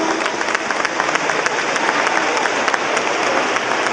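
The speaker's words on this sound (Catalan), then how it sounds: "un fort aplaudiment per la coral ginesta" Sustained, dense applause from an audience welcoming the Ginesta children's choir at a children's and primary choir gathering, steady and loud throughout without a break.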